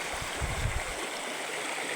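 Water flowing through a round hole worn in a rock: a steady, broadband rushing stream with gurgling low churn, close and continuous, with no talk.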